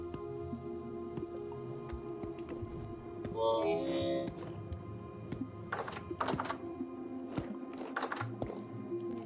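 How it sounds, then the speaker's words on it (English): A shiver monster in Vintage Story bangs its head on a house roof, giving a series of irregular dull thumps and wet, squishy knocks, moderately close, with quieter stretches between hits. "The sound of that shiver banging its head on the roof made me want to off myself"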